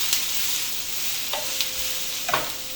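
Ingredients for a bean and ham soup cooking down in a hot pan, a soft even sizzle with a few faint clinks and scrapes, close and without speech.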